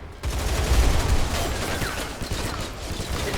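Rapid M4A1 automatic gunfire in the shooter game Line of Sight, a loud sustained burst of close shots with mechanical clatter, followed by quieter trailing fire and game ambience.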